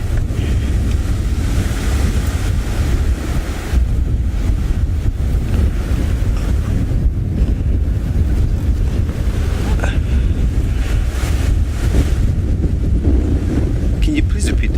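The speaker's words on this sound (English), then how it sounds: "because of the wind. It's blowing so much." Strong wind buffets the microphone outdoors on an African safari drive near a hyena den, a loud continuous roar and rumble that never lets up across the whole stretch.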